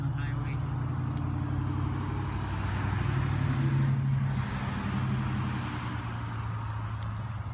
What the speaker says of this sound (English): you'll have to forgive the car noise. I'm right on the highway.